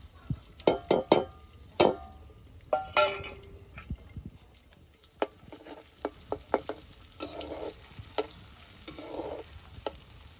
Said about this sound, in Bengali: তো তেলের ভিতরে এখন আমি যে রসুন থেতো দিয়ে দেবো